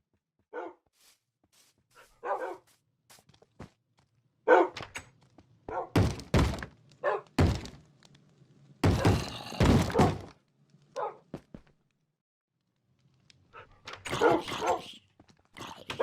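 A dog barks in short scattered bursts, some loud and close, mixed with dull thumps, with quiet gaps between the barks and no talk.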